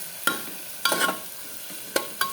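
Low sizzle of lentil khichuri ingredients frying in a pan, punctuated by four sharp scraping or tapping stirs at uneven intervals.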